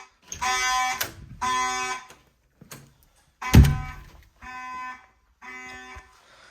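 Fire alarm system test sounding from a garage: loud repeated horn blasts in bursts of about a second, separated by short gaps, with a heavy thunk partway through.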